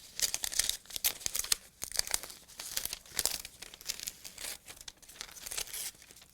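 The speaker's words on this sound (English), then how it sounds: "simply peel this away." Backing paper is peeled off pre-fused laser-cut fabric in a sewing kit, giving close, crisp crinkling and tearing rustles that come in uneven bursts over several seconds, with no voice.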